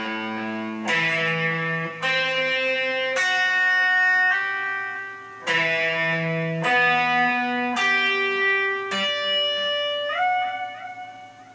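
Electric guitar with a distorted, effected tone plays an intervallic Dorian lick very slowly, with long sustained notes ringing and overlapping, each new note picked clearly and steadily with no talking.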